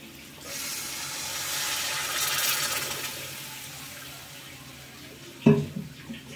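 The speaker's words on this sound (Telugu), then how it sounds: "మొత్తం వేగిందండి. ఇప్పుడు వాటర్ పోసుకుందాం." Water pours steadily into a pan of fried spices for a raw banana fritter curry, a broad rushing hiss that swells then tapers, ending in a sharp clink of metal.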